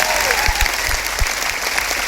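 A seminar audience in Ludhiana, Punjab claps together in a steady, dense burst of applause that fills the whole moment, with a faint voice briefly audible underneath.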